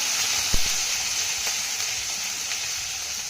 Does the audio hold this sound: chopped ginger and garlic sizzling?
yes